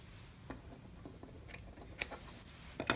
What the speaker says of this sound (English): If you want, you can cut it.